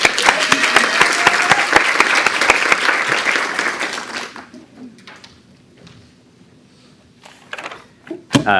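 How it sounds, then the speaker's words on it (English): An audience bursts into loud, dense applause for about four seconds, then it fades away, leaving a quiet room with a few small knocks. "Let's give him a round of applause."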